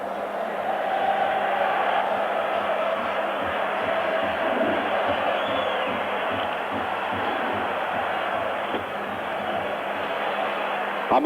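A large Italian crowd stands and sings in the stadium during a European Cup semi-final between AS Roma and Dundee United, a dense sustained roar of massed voices heard at a distance.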